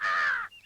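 A single crow gives one harsh, drawn-out caw, close and fairly loud, cutting off abruptly with a faint trailing note after.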